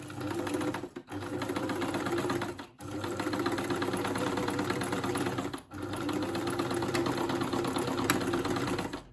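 A quiet Janome 574 sewing machine sews a straight reinforcing stitch through fabric. Its steady, close, rapid whir runs almost without a break, cut by three short pauses.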